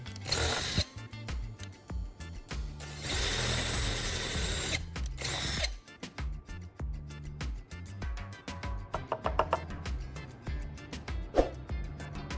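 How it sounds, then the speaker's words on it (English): A power drill bores two holes into a wooden handle, with loud bursts of whirring and grinding broken by short pauses and lighter mechanical clicks, close and alone. "I use a drill to make 2 holes in the wooden handle"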